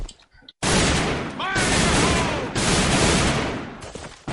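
Sustained rapid gunfire from a Rainbow Six Siege tournament match with weapons such as the SG 550, HK 416, FRF2, TPG and M4. Dense, loud overlapping bursts run almost without pause after a brief quiet start.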